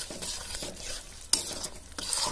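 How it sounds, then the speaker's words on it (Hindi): Chopped tomatoes with salt fry in a pan under a fairly quiet, continuous sizzle while a spoon stirs and scrapes, with one sharper clatter against the pan midway. "फिर मिला लेंगे भून के, पूरा मिला लेंगे"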